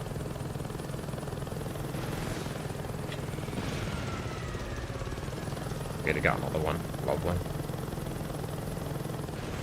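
Helicopter in Saints Row 2, a steady rotor thrum droning close throughout the gameplay, while someone talks over it and a few sharp effects burst out midway.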